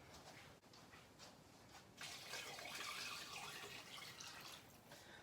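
Water pours steadily into an Instant Pot, rising to the fill line, a faint continuous splashing that grows a little fuller partway through, with no voices.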